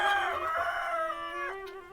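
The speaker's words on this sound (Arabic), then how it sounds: "ديوكه موجودات" Roosters crow on a homestead in the Chibayish marshes, one long drawn-out call with rising and falling pitch, close and clear, with no voices.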